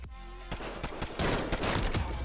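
Gunfire from a .50 GS sniper rifle in a one-on-one free-for-all shooter game: a sharp loud report, then several further shots and impacts crackling densely over the next two seconds.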